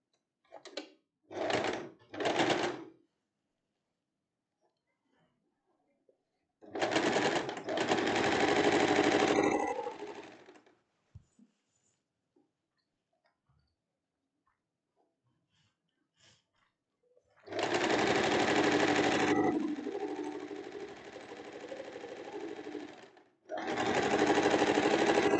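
A sewing machine stitches the hem of a dress in short bursts: three quick runs, then a longer run, a long quiet pause, and two sustained stretches of close, steady mechanical whirring.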